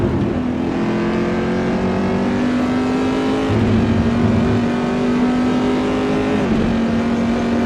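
Chevy Corvette C6R race cars roar at Silverstone International with sustained high engine drone, shifting pitch as they accelerate and change gear, loud and continuous.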